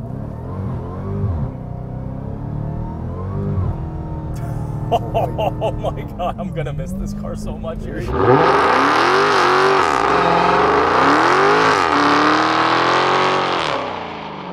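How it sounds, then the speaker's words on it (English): Supercharged V8 of a 2023 Dodge Charger SRT Hellcat Redeye Widebody Jailbreak idling and blipping, then bursting into a loud sustained burnout with howling revs and tyre screech; someone speaks briefly early on. "I'm just gonna do a burnout."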